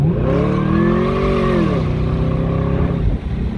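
A turbocharged Chevy S10 engine revs hard and close, its loud harmonic roar climbing and then settling for about three seconds before easing off, with no talking.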